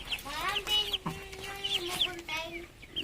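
Chickens clucking near ducks and a duckling on a farm, steady overlapping clucks and squawks close by, with a few brief voices in the background.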